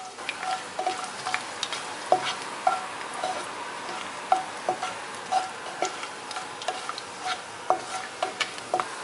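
Cinnamon, cloves and cardamom fry in hot oil for Kerala-style prawn biryani, a light steady sizzle broken by irregular sharp crackles and pops, close and with no voices.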